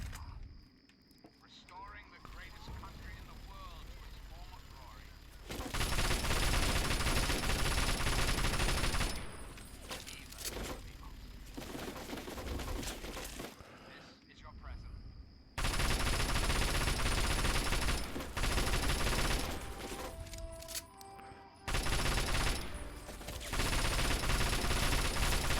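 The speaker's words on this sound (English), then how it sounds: "I guess we're going to try an assault rifle." Assault rifle fire in Fallout 3 comes in long, loud sustained bursts separated by short pauses, mixed with game sounds and a voice talking in between.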